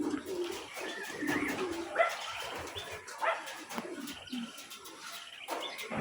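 Soft cooing of racing pigeons during training flights repeats in the open air, mixed with scattered bird calls and occasional rustling, moderately faint with no talking.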